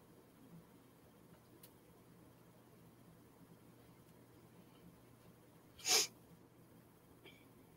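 A congested person gives one sharp, brief nasal sniffle in an otherwise quiet room, with a faint tick shortly after.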